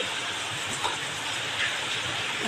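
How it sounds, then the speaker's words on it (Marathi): Water heated on a gas stove for cooking sorghum grain comes to a rolling boil in a pot, giving a close, steady hiss and bubbling crackle. "आपल्या या पाण्याला चांगली उकळी आली"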